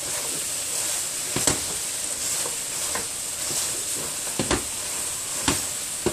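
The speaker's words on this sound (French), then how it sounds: "Alors une fois que les oignons, l'ail, le gingembre ont sué un petit peu, incorporez" Minced beef frying with onions, garlic and ginger gives a steady close sizzle and hiss, broken by several sharp scraping stirs of a utensil against the pan, with no talk.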